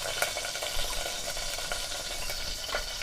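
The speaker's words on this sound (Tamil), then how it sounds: "எண்ணெய் காஞ்ச உடனே 2 பட்டை, 2 கிராம்பு, 2 இலை சேர்த்துக்கலாம்." Cinnamon sticks, cloves and bay leaves frying in hot oil for a Tamil mochai kolumbu, a steady close sizzle and crackle with small spatters and faint stirring, no talking.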